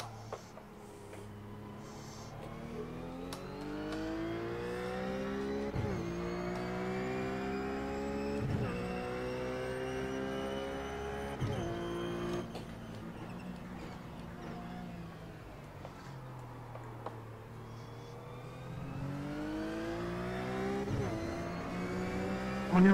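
A BMW race car engine in iRacing at Spa screams through the gears, rising revs broken by sharp upshifts and dips, steady and close, with other cars passing faintly.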